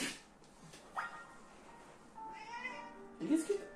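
A cat in the Pokémon Legends Z-A video game meows several times, short nasal calls near the end over quiet background music, fairly close and moderately loud.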